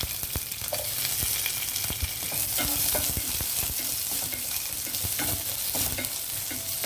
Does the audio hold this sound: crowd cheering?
no